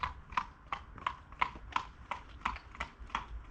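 Horse hooves clip-clopping in a steady, evenly spaced rhythm of about ten clear strikes, moderately close and alone without any talk.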